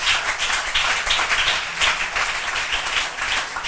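A church congregation claps and cheers together during a French-language worship service, a dense, steady wash of applause at close range with rhythmic surges and no talk over it.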